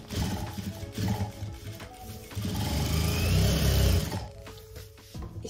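A sewing machine stitches a DIY bag made from an old rice-flour sack, giving close rhythmic mechanical chattering that speeds up into a steady run and then slows to a stop.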